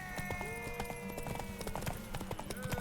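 Hooves of a horse in a race from The Witcher 3 pound in a fast, steady galloping rhythm, close and continuous, with a whinny-like tone and faint background voices underneath.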